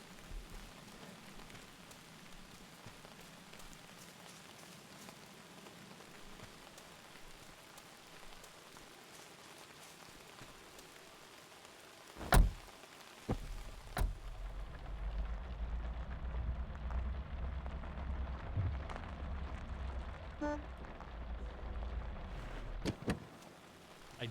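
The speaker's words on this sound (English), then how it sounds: "Looks like rain." Rain falls steadily outdoors as a soft, even patter, joined midway by a few sharp knocks and a louder, lower rumble of rain on a surface.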